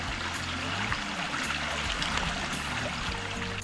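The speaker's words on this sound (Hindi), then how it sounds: "जब पानी की आवाज़ आ रही है, हम पिछले 5-7 मिनट से यहाँ पर सिर्फ पानी की आवाज़ को सुन रहे हैं।" Water of a stream flowing along a forest hiking trail near Junagadh, Gujarat, a steady, fairly close rushing and trickling with no voices over it.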